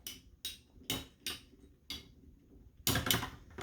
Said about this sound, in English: There's some scraping on the stadium now.